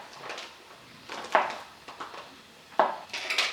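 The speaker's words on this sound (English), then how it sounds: "I'm cutting the banana into slices" A knife cuts a banana into thin slices of about 1 to 1.5 millimetres on a board, giving a few scattered soft taps and light clicks, faint and close, with quiet gaps between cuts and no talking.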